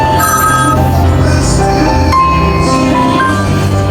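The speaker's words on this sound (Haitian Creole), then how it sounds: "Téléphone." A telephone rings loudly and without pause in a busy setting, its bright electronic melody sounding over steady background noise.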